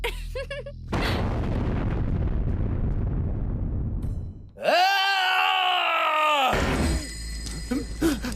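A factory blowing up: a sudden heavy blast that rolls into a long, decaying rumble of debris, followed by a loud droning tone and scattered noise at the end.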